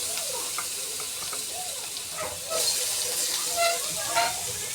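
Chopped onion goes into lightly heated oil and fries with a close, steady sizzle, swelling slightly partway through, with faint clinks from the pan and no speech.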